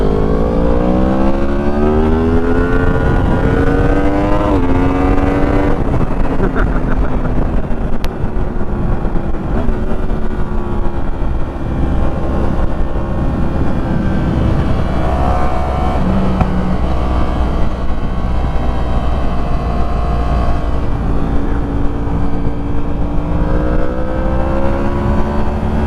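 A Yamaha MT-10 motorcycle ridden alongside street fighter bikes, its engine droning and rising in pitch through gear changes under constant heavy wind rush, loud and sustained.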